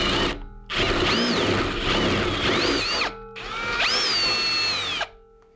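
A power drill bores a hole with a drill bit through a vehicle skylight roof panel during a light fitting, running in two long bursts with a brief pause between, loud and close, with pitch rising and dipping as the bit bites.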